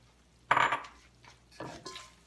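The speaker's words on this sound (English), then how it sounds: "I'm going to toss in our chopped toasted hazelnuts. And our chopped black olives." Chopped toasted hazelnuts and then chopped black olives are tossed into a pan of spaghetti aglio e olio, giving two short clattering scrapes about a second apart, close and fairly soft, with no voices.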